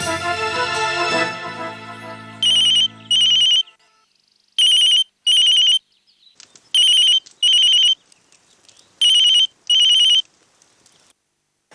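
A phone ringtone chirps in repeated paired bursts, loud and electronic, following a brief stretch of music at the start; no one speaks.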